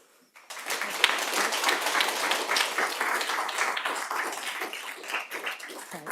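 Audience at a Palo Alto school board meeting breaks into applause after a public speaker, a sudden, sustained wash of clapping in a large room that stays fairly even for several seconds.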